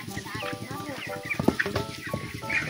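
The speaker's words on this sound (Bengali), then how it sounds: "অনেকগুলো মুরগি এখানে" Many chickens cluck together in a poultry farm shed, a busy overlapping chorus of short calls close by, with a person's voice mixed in.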